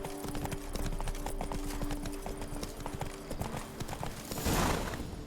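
In The Witcher 3: Blood and Wine, the horse Roach trots with a quick, even clip-clop of hooves, close and steady, ending in a brief rushing swell.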